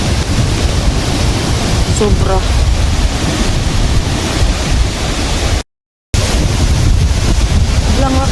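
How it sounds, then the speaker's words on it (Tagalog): Strong wind roars into the microphone in a constant loud rush at a campsite in Australia, with a brief dropout and a voice speaking faintly underneath. "lakas ng hangin."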